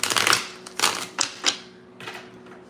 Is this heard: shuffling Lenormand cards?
yes